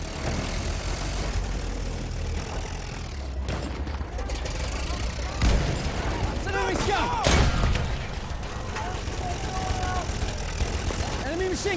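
Enemy machine gun fire in Battlefield 1 rattles through a dense wartime soundscape, its bursts mixed with engine drone, mechanical clatter and shouted game voices.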